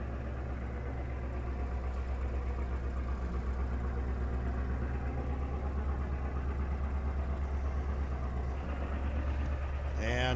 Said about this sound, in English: So let's get on the old tractor.